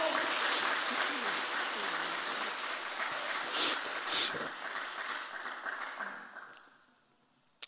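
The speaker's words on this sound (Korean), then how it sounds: "큰 감사와 위로의 박수를 보내주시기 바랍니다" Congregation applause in a church service, a broad, fairly soft wash of clapping from many people that holds steady, briefly swells, then fades out near the end.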